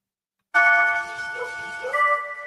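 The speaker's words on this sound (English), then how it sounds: "the chimes ring out across Hiroshima, marking the moment in 1945" A Hiroshima memorial chime rings out suddenly after silence, its bright sustained tones layering and fading slowly, with a second strike shimmering near the end.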